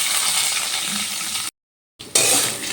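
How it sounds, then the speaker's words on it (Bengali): Chopped coconut frying in hot oil with spices, making a steady close sizzle with light stirring. The sizzle cuts out briefly to silence, then resumes louder. "এবার ওই তেলের মধ্যে দিয়ে দিচ্ছি কুচি করে কেটে রাখা নারকেল"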